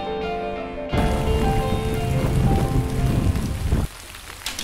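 Rain beats steadily on a surface in a dense, loud hiss that begins abruptly and then fades, with no talking, during a rainy mountain bike ride between Oslo and Bergen.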